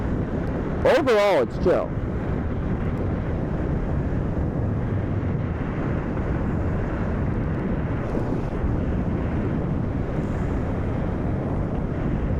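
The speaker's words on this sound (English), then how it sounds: "It's kind of windy today though." Wind buffets the microphone on a fast scooter ride, a steady broadband roar running the whole way, with a voice speaking briefly near the start.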